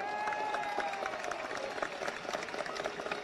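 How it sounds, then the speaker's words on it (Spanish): A crowd at a political rally in a Venezuelan plaza breaks into scattered applause and cheering, heard moderately distant, with a few shouted voices. "Un aplauso para ellos."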